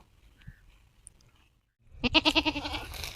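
A goat kept for sale in a village bleats in a loud, close, wavering cry of rapid pulses lasting about a second, after quiet rustling and no speech.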